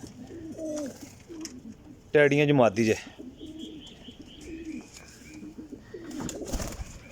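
Pigeons coo softly in a loft while someone talks nearby, and a brief, sharp, higher-pitched call cuts through the middle.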